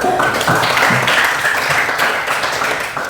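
A classroom applauds after a group presentation with loud, close, continuous clapping from many students, steady throughout and tapering only slightly at the end.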